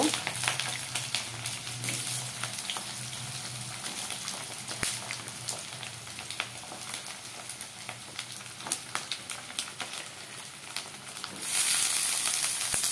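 Pieces of pointed gourd and potato fry together in a hot pan, giving a steady, close sizzle with scattered pops and crackles that swells louder near the end.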